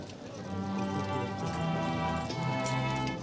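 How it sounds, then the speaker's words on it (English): Horse hooves clip-clop steadily as a horse-drawn carriage carrying the royal party arrives at a ceremony at St. John's on the Isle of Man, a continuous rhythmic clatter heard over outdoor crowd ambience. "they arrived in a horse-drawn carriage"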